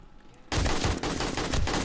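Sustained automatic fire from an AK rifle in the zombie survival game 7 Days to Die, a loud continuous burst of rapid shots that erupts after a short quiet moment and keeps going to the end.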